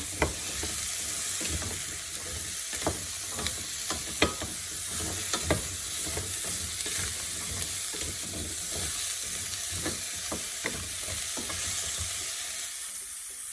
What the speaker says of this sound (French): On va rajouter les carottes. On mélange ensemble.